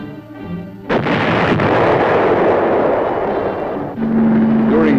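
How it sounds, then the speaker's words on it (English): Tanks firing their cannons in Vietnam War footage, a sharp loud blast followed by sustained heavy rumbling and another boom near the end, close and dense. "Tanks were used to keep the roads open at strategic points, firing to keep the enemy off balance."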